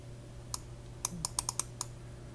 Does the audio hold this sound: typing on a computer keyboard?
yes